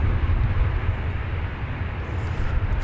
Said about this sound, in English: the next plane we'll see from the sky is Flight 1544 from Sacramento, California, being Airbus A321 on runway